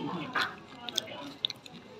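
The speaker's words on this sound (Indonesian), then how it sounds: "Kriuk banget guys" Close, crunchy chewing on crispy fried samsam guling pork, with soft bites and a few sharp crackles over a quiet background.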